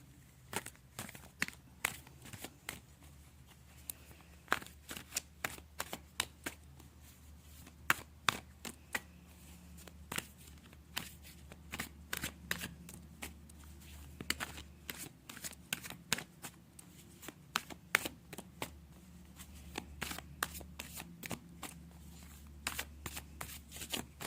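Tarot cards shuffled for a reading: a long run of quick, crisp riffles and soft slaps, closely spaced and fairly close, continuing steadily with no voices.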